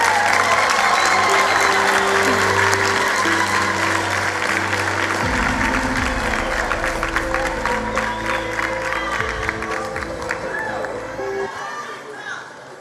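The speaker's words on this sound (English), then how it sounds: "Another round of applause." Dense, loud applause from an audience at a South African matric results announcement, sustained across the whole stretch with scattered cheering and crowd noise, a steady low hum underneath, fading at the very end.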